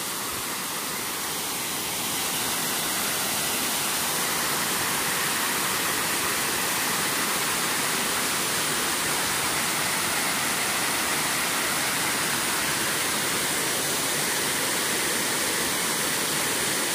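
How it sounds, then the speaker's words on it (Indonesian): Water rushes over the Sucen dam weir in Salatiga, a loud, steady roar of falling water that fills the whole stretch without a break. "Waterfall Sasin."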